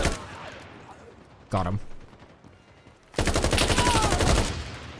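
Gunfire in the video game '83 comes in two loud bursts, a short volley and then a sustained rattling stream of rapid shots, with a brief spoken remark between them.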